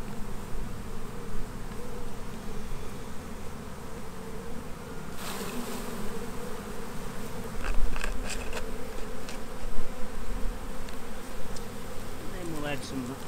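A steady hum of many buzzing honey bees fills the scene during a sugar shake, close and constant, with occasional clicks and knocks over the drone.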